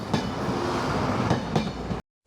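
A slow local train crosses a railway bridge on the Pingxi line in Taiwan, its wheels clattering steadily over the rails at close range before the sound cuts off abruptly.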